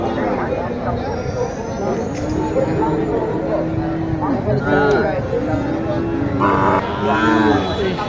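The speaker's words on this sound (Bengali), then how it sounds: "এখানে একটি আছে গরু দেখেন" A cow moos several times in long drawn-out calls, close by, amid a busy crowd of voices at a cattle market in Naogaon, Bangladesh.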